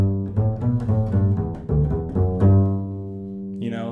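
A bass guitar plays a short melodic phrase from a tune called Squirrel Hunters, each plucked note at the same even level with no accents, the notes close and dry with no talk.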